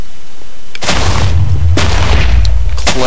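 Bombs explode in a Minecraft Bomberman game: a loud, booming blast lands suddenly, followed by a second deep explosion a second later, both with rumbling tails and no talk over them.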